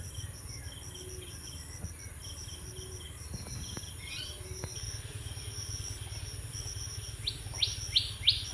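In a rural homestead garden with fodder grass, a dense, steady cricket chorus fills the background. Scattered bird chirps come through it, ending in a few louder, quick rising calls close by near the end, and no one speaks.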